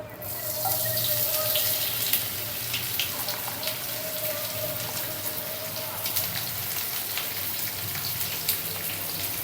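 Sliced bitter gourd dropped into a hot pan with curry leaves and dried red chillies, giving a steady close sizzle and crackle of frying that runs throughout with scattered sharp pops.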